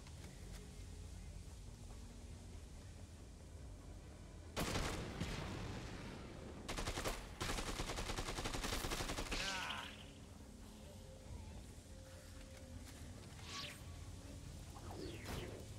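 Gunfire in the Dead Rising 2 video game, a few sharp bursts and a longer rattling volley in the middle, over steady game ambience with a voice talking at times.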